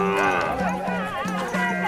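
Maasai cattle mooing in Africa, several overlapping low drawn-out calls from a nearby herd, with talk running over them.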